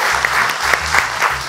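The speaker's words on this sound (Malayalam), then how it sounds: "ഒരു നല്ല കയ്യടി ഇങ്ങ് കിട്ടിയാൽ തുടങ്ങാമായി" Loud, dense audience applause at a Malayalam stage comedy and music show, sustained for the whole moment, with a low musical hum pulsing underneath.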